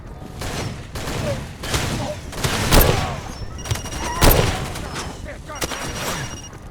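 Bursts of gunfire from the video game Far Cry 2 crack out in quick volleys and single shots, some booming, loud and close, with faint voices now and then between the shots.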